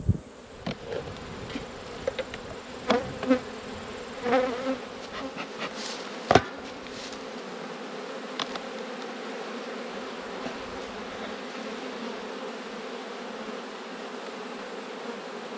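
Steady droning hum of many honeybees buzzing in a hive in autumn, constant and close, with a few scattered knocks and clicks early on.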